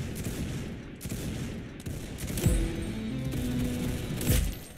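Bursts of rapid automatic gunfire in the Roblox shooter Arsenal, a steady loud rattle of shots with a few heavier thuds and mechanical clicks mixed in, close and continuous.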